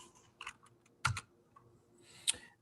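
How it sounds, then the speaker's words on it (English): Short bursts of typing on a computer keyboard, three clusters of quick clicks separated by pauses, fairly close and alone in an otherwise quiet room. "typing in these things in Google, this is what you find"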